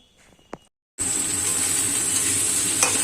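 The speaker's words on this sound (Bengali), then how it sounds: "আমি জিরে ফোড়ন দিয়েছি তেলের মধ্যে সর্ষের তেল" Cumin seeds hitting hot mustard oil for a tempering, a sudden loud continuous sizzle that starts after a brief quiet pause and holds steady close up, with faint clatter just before.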